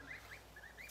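Faint, high peeping calls from newly hatched Kholmogory goose goslings on a farm, several short chirps spread across a brief moment.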